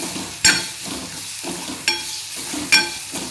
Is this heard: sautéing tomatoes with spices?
yes